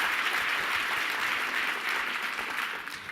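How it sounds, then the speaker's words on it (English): Sustained applause from a conference audience at a health-research plenary panel, a dense, even roar of many hands clapping at steady volume throughout with no talk over it. "Give yourself a round of applause, a hearty round of applause."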